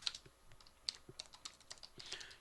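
Quiet, close keystrokes on a computer keyboard while code is entered, a quick irregular patter of light clicks with no talking.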